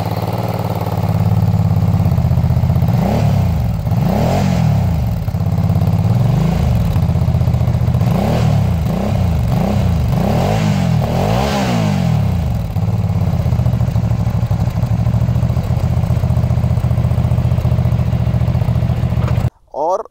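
Hyosung Aquila GV650 Pro motorcycle with straight pipes, loud and close, idling with a deep rumble and blipped repeatedly in a series of sharp revs, then settling back to a steady idle.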